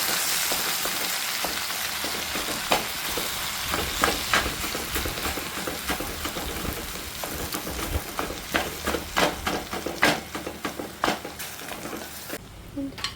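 Cooked tapioca being mashed and stirred in a pan with curry leaves, giving a steady close sizzle with repeated scraping and soft clacking of a utensil against the pan.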